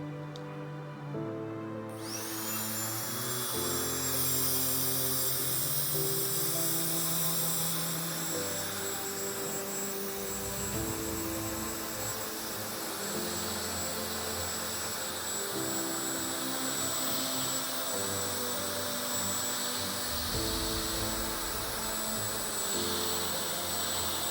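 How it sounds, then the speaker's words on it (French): Small electric cooler blowing air onto an iPhone XR logic board during repair, switching on with a sharp start and then holding a loud continuous whoosh with a thin high whine layered on top. "Je vais utiliser mon refroidisseur, ok, pour pouvoir refroidir plus rapidement."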